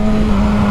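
A Mercedes G-Wagon engine hums steadily at close range, a constant low drone with no voices over it.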